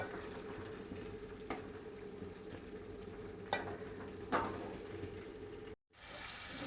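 Chopped tomatoes with turmeric frying in a pan for tomato chutney, a steady soft sizzle with a few faint clinks of a spoon, close and quiet.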